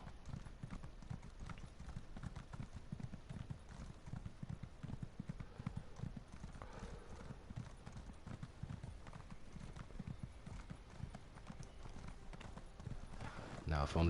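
Horse hooves gallop in Elder Scrolls Online, a fast, steady clip-clop rhythm running throughout at moderate volume, with faint game ambience underneath.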